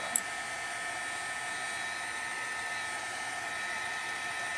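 A hair dryer blows steadily over a wet watercolor painting, a constant close whirring hum with a bright high whine, alone and unchanging after a small click at the start.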